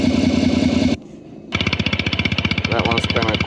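A simulated engine plays through the Bluetooth speaker of a Segway Ninebot GoKart Pro, loud buzzing pulses that stop for half a second and then resume as a rapid rumble whose pitch rises and falls, with no talk over it.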